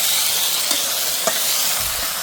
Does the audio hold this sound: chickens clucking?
no